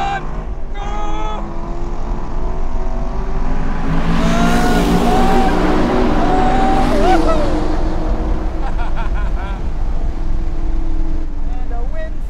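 A 2018 Camaro SS 1LE and a 2018 Corvette Grand Sport drag race on a track, loud engine roar and rising revs with a brief tire squeal, while excited voices talk over the noise.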